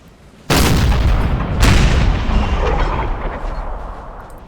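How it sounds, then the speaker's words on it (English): Prussian 4- and 6-pounder artillery in the Napoleonic strategy game Napoleon: Total War fires on the Battle of Paris, 1814: two heavy, close booms about a second apart, each trailing into a long rumbling decay. "We now have Prussian artillery up here of varying sizes."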